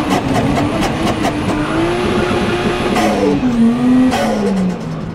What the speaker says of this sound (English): Make a few turbo noises for you guys.